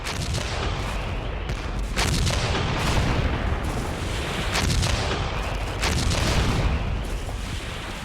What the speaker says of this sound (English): On January the 12th, 1945, the Russian offensive began with the usual artillery barrage.